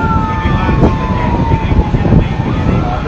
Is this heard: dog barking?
no